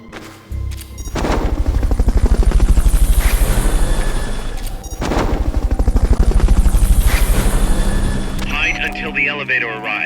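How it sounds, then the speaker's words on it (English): Helicopter in the video game Metal Gear Solid Peace Walker, a loud, close rotor chop pulsing steadily for several seconds, dipping once midway, with gunfire-like bursts and game effects layered over it. "Fulton recovery subject confirmed onboard helicopter."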